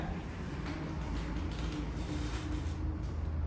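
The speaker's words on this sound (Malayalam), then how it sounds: "ഒരൊറ്റ വലി വെച്ച് കഴിഞ്ഞാൽ ഇതിങ്ങനെ സിമ്പിൾ ആയിട്ട് മടങ്ങും" Creaking and clicking of an ESLEH motor wheelchair's folding frame as it collapses, a steady mechanical rattle close by with no talking.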